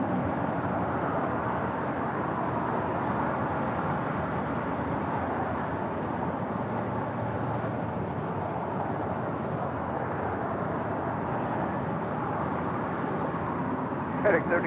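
United Airlines Boeing 787-10 Dreamliner rolling down the runway on its takeoff run toward Chicago O'Hare, a steady broad roar of jet engine noise that holds constant throughout, heard from a distance with speech running over it.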